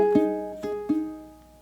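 Three plucked ukulele strums walk down through a short two-beat bar from "Nessun Dorma", each ringing briefly and fading, close and alone.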